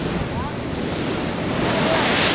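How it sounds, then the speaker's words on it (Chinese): Big ocean waves just outside the harbour by Guishan Island off Toucheng, Yilan, a broad continuous roar of surf and sea with heavy wind buffeting the microphone, no voices. "一出港就遇到大浪了"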